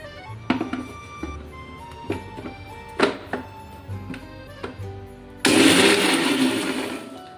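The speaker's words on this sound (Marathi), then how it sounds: "मिक्सर फिरवायचं आहे" Several short knocks and clatters, then a kitchen mixer starts up and grinds roasted ingredients and garlic into a coarse garlic chutney, loudly and steadily for a couple of seconds.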